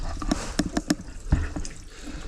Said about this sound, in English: see water coming out the bottom